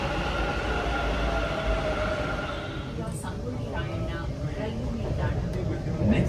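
Steady rumble and rolling hum of a metro train ride in Bengaluru, heard from inside the carriage, with a faint voice briefly over the continuous noise.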